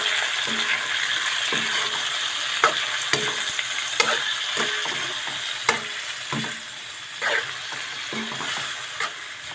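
Squid frying in a pan, a steady close sizzle with bursts of stirring and scraping at intervals.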